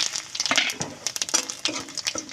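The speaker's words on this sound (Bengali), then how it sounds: "মাছ ভাজার তেলের মধ্যে আবার তেল দিয়ে দিয়েছি আর শুকনো লঙ্কা ভেঙে তেজপাতা আর কাঁচা জিরে দিয়ে দিচ্ছি" Dried red chilli, bay leaf and cumin seeds dropped into hot mustard oil left from frying fish crackle and spit in quick, sharp pops over a bright sizzling hiss, close and busy throughout.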